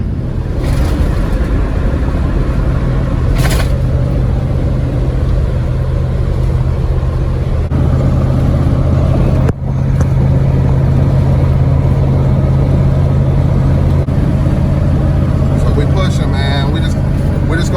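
An old, rough truck's engine runs while driving, a steady low rumble continuing throughout with a brief dip midway, and a voice talking over it at times.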